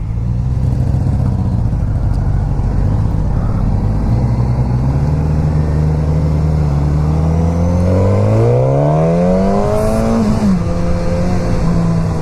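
A 2016 Suzuki GSX-S1000 ABS sportbike being ridden, its engine droning steadily up close, then revving hard and climbing in pitch through the gears before easing off, with wind rush throughout.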